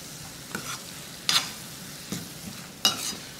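A spoon scrapes and stirs ground masala paste frying in a pan for Veg Kolhapuri, four or five sharp scraping strokes over a constant low sizzle, close by and without talk.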